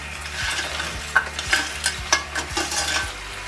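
Chicken wings, already fried, are stirred and tossed into a simmering sauce in a pan, with a steady scraping stir and soft sizzling throughout, punctuated by several brief louder clinks of the spoon against the pan.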